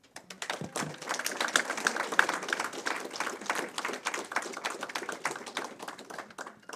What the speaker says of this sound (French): Et il faut vraiment les remercier et on peut les applaudir.